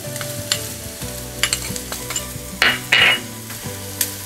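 Jaggery powder stirred into a simmering Marathi usal of sprouted field beans: soft sizzling under repeated spoon scrapes, with two louder, harsher scrapes near the middle.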